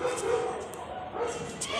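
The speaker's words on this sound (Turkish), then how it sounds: "Habire köpek var." Small dog yipping and barking a few times at mid distance, mixed with people talking over a noisy background.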